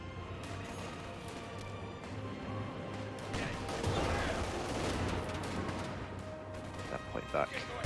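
Gunfire in Company of Heroes 2 cracks in dense overlapping volleys and bursts, building toward the middle with heavier impacts, while voices call out over the battle.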